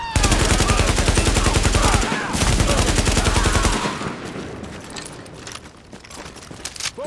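Rapid automatic gunfire from the video game Tom Clancy's The Division, a loud sustained burst with a short gap, then fading to scattered shots and clatter.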